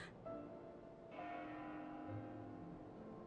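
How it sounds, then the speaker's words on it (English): Church bell ringing in Xenoblade Chronicles 2, a faint resonant toll with long humming overtones, struck again about a second in and left to ring out quietly. "That bell sound must be coming from somewhere."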